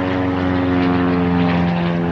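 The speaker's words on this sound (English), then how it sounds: "Oh, God, there's a plane." A propeller airplane passes overhead with a loud, steady droning engine hum and buzzing propeller tone that fills the whole moment without any talk.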